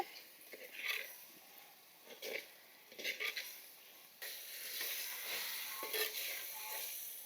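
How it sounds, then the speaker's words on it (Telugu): Chopped tomato pieces fry in oil in a pan for khushka rice, a quiet sizzle with intermittent stirring scrapes that thickens into a continuous hiss in the second half. "ఇప్పుడు తరిగి పెట్టుకున్న టమాటా ముక్కలు కూడా వేసేసి ఈ ముక్కలను కూడా బాగా మగ్గించుకుందాం అండి"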